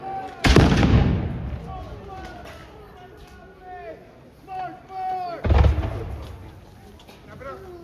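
Two loud, sharp Jaeger rifle shots crack out at a Battle of Bound Brook reenactment, the first near the start and the second about five seconds later, with a commentator talking between and around them.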